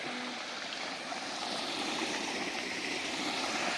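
Water gushes steadily from the two-inch delivery pipe of a solar pump run by a 3HP AC motor drawing from a well for irrigation, a soft, even rushing hiss with no talk over it.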